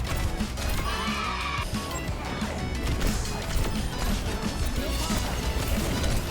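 A horse neighs in the video game Overwatch, a brief whinny rising amid dense, loud game action with crashes, impacts and clopping hooves, alongside some speech.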